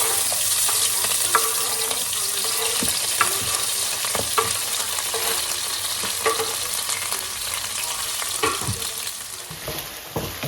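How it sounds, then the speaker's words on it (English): Onions and scallions sauté in a pan for a traditional Albanian pite, a steady broadband sizzle with scattered scrapes and clicks of stirring throughout, no voices. "This is how much you want to saute the onions, scallions."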